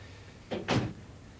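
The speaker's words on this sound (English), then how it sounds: "Shut the door." An indoor door swings and shuts with two quick, close thuds in succession, then quiet room tone.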